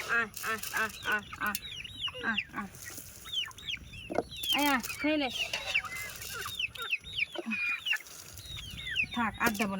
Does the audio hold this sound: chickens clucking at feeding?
yes